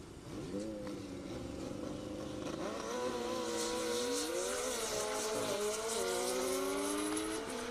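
McLaren 765 supercar and Hayabusa motorcycle launching side by side in a half-mile airport drag race in Indiana, engines revving and climbing through rising gear sweeps, loud and sustained with a brief shift dip midway.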